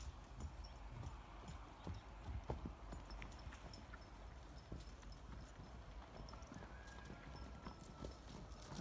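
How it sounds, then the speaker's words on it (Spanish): Faint horse hooves clip-clop irregularly on hard ground as a horse harasses a pony, with scattered soft knocks and a quiet outdoor background. "El caballo acosando al pony."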